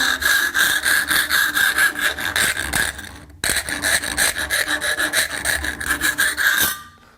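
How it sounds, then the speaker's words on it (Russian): Round hand file rasping out a USB socket opening during a USB installation on a Suzuki Boulevard VZR1800 (M109R) motorcycle, close and loud, with rhythmic back-and-forth strokes, a short break midway, then more strokes. "Берем круглый напильник."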